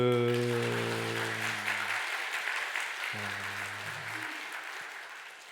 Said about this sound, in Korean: 그럼 우리가 할 수 있는 것은 힘차게 응원과 칭찬의 박수를 보내드리는 거죠.